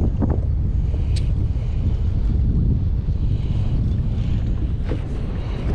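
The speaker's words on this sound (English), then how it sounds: "A little bit of wind." Wind gusting over open water while fishing from a boat, a steady low rumble buffeting the microphone with faint water sounds beneath, constant and fairly loud throughout.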